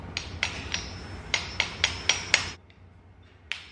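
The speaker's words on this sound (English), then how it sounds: "I hit this down with a little hammer" Several sharp metallic taps from a small hammer, struck in an uneven rhythm, then a pause and one more tap, close up.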